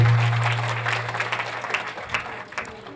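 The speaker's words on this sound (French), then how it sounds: "Applaudissez pour elle." At a French-speaking school ceremony, the gathered crowd claps for the school's cofounder, a burst of applause that starts full and gradually thins out over a few seconds, with a low hum beneath.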